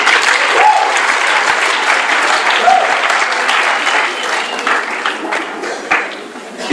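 An office audience at a Gauteng Premier women's event breaks into sustained hand clapping, dense and steady, easing off slightly toward the end with a few voices mixed in.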